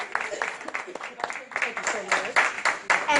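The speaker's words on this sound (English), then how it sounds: "give yourselves a great big round of applause" Audience clapping at a diabetes expo show, dense overlapping claps swelling in bursts with a few voices mixed in.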